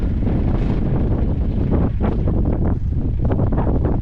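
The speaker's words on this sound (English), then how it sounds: "A bit windy and blustery, but beautiful all the same." Loud, blustery wind roaring over the microphone without a break, with gusts swelling and easing throughout.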